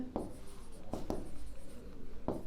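Pen scratching across paper during a physics lesson, several sharp strokes and taps in steady short bursts, close and fairly quiet with no speech.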